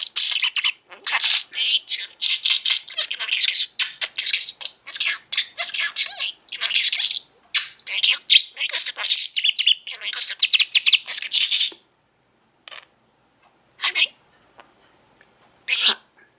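Budgie chattering and chirping up close, a rapid stream of high, scratchy warbles and mimicked talk that runs continuously, then thins to a few scattered chirps.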